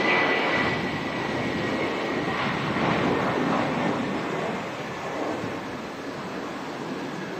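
Airplane taxiing and turning on an airport runway, a steady, loud broadband engine roar holding evenly throughout with a slight fade toward the end, no voices.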